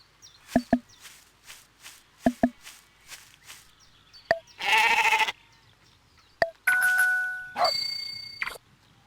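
Short sheep bleats from a David and Goliath video game sound several times in quick bursts, mixed with chime-like tones and bright synthetic game effects, and nobody speaks.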